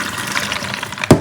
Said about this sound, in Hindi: यहाँ पे चला देते हैं पानी और अच्छे से इनको वॉश कर करके